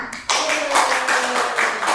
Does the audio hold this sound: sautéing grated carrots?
no